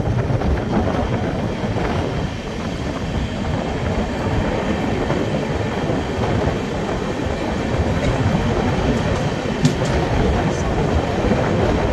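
The 13212 Intercity Express runs on rails between Danapur and Jogbani in Bihar, heard from on board as a loud, steady, unbroken rumble of wheels on track with faint clicks and wind noise throughout.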